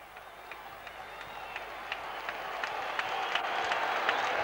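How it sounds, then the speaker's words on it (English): At a 1989 rugby league match between Oldham and Wigan, a large crowd roars and claps after an Oldham try, a broad wash of cheering and applause that swells steadily with scattered sharp claps, heard from a distance. "the Oldham section in this large crowd go wild"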